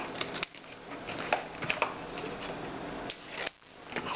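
Scissors trimming the folded paper edges of a gift-bag book cover, a run of close, crisp snipping and rustling cuts with short pauses between them, quiet and without talk.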